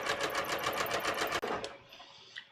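A sewing machine stitches fabric for a bias top, running a quick, steady rapid-fire chatter for about a second and a half before stopping abruptly, followed by a faint click, close and fairly quiet.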